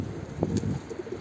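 A soft pigeon coo sounds once, nearby, followed by a few quieter murmuring notes against faint background noise.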